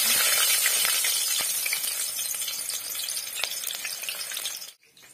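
A small, finely chopped onion sizzles in a hot pan for a chicken curry while it is stirred. The crackling hiss is steady and close, with a few light clinks, and it cuts off into quiet at the end.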